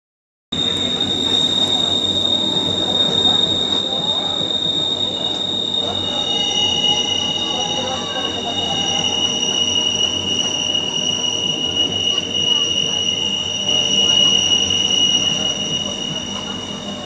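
Palembang LRT train riding along its line, a steady loud rumble with high sustained wheel squeal heard from onboard, continuous throughout with faint background voices.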